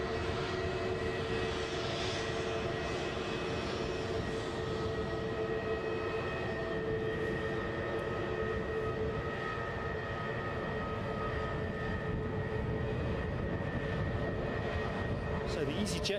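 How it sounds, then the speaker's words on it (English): An easyJet Airbus A320neo jet airliner at Edinburgh airport roars loudly and steadily close by, its engine noise broad and continuous with a faint whine on top. "Stansted bound, folks. An A320 Neo."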